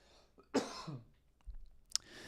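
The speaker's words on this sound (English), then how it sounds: "Apologies for that cough there" One abrupt cough, close and fairly loud, followed by faint throat rustle and a small click in an otherwise quiet room during a crypto news commentary.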